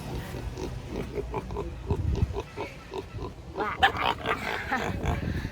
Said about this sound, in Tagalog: meron tayong baboy dito